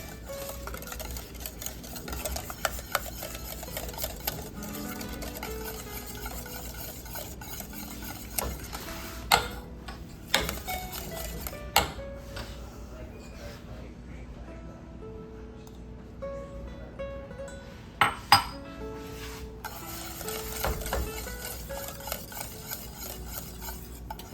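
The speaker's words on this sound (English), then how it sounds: "I'm gonna keep whisking" A whisk stirs chocolate custard pie filling in a bowl: continuous close scraping and swishing with a few sharper clicks against the bowl, steady throughout with no talking.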